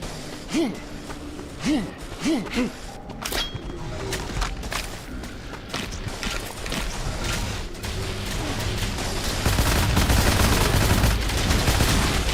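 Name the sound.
crystallizer weapon firing in the video game Wrath: Aeon of Ruin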